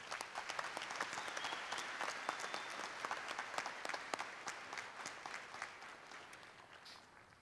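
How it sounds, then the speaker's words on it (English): A university commencement audience gives a round of applause, many hands clapping in a steady, moderately distant wash with sharper individual claps poking through, slowly tapering toward the end. "Please give Dr. Lilly another round of applause."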